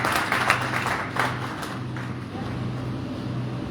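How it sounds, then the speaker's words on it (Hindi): A seminar audience claps together in dense, continuous applause at moderate distance, with the loudest bursts at the start before it settles into a steady, even patter. "एक बार जोरदार ताली बजा दीजिए।"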